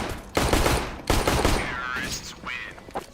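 Pistol fire in a Counter-Strike match on the Overpass map: several sharp bursts of shots, close and loud, spaced over a few seconds with brief game effects between them.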